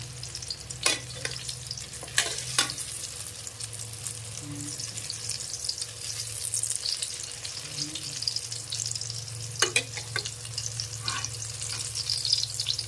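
Tortang talong, an eggplant omelette, sizzles and fries steadily in a pan after being flipped, a continuous close crackle with a few sharp clatters of utensils against the pan.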